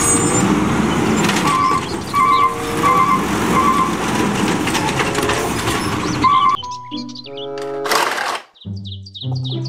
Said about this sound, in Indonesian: mobil truk sampah.